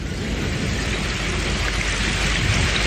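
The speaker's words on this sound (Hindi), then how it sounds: "अरे बारिश शुरू हो गई।" Steady rain begins falling in an animated adventure film, a dense, even hiss of drops filling the scene from start to finish with no voices.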